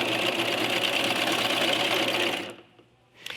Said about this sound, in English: when you get to the end, you want to go ahead and sew all the way off